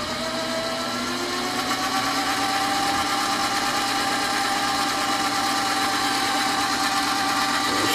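A mini lathe runs at 530 RPM while making T-nuts, a steady whirring motor drone with a faint tonal whine, constant from start to finish with no talking.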